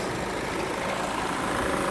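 A Peugeot 3008 with a 1.6 petrol engine and manual gearbox idles under an open bonnet, a steady, even broadband hum held at constant loudness throughout, with no talk over it.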